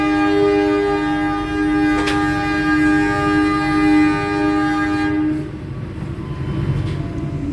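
A Doho economy passenger train runs on rails, with a loud, steady rolling rumble and sustained tonal droning that fades partway through, leaving rougher track noise and clacks, without voices.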